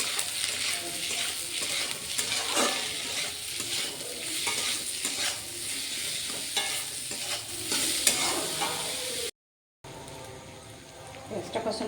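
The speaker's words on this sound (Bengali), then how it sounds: "পেঁয়াজটা কষানো হয়ে গেছে" Onions for chicken kosha sizzle steadily in a pan while a spoon stirs them in repeated scrapes, close and continuous, with a short dropout near the end.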